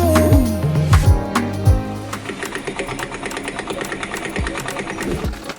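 A sewing machine stitching clothing runs in a steady, rapid mechanical patter, with tonal music swooping underneath at the start before the machine rattle dominates.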